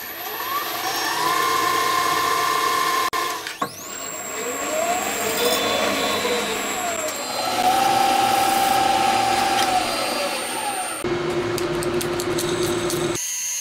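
A metal lathe cuts a cam bearing holder for a Monkey motorcycle engine being converted to four cylinders, giving a loud, steady machine whine with shifting tones and a brief clunk partway through.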